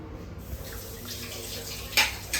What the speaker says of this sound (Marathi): पाणी किती घ्यायचं आहे त्याच्यात मोजून घ्यायचं आहे